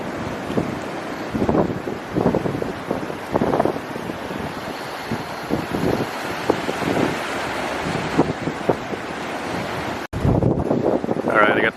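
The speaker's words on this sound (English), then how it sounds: "it's cloudy again, windy." Gusty wind buffets an outdoor microphone on a cloudy day, a steady rushing roar with repeated louder gusts throughout, while a person talks intermittently over it.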